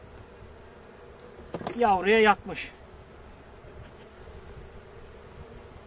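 Honey bees at a hive in Trabzon in January give a low, steady hum that runs throughout, while someone speaks briefly over it near the middle.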